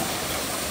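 A dense, steady rush of falling water at Malam Jabba waterfall fills the brief moment, a broad continuous roar with no voices.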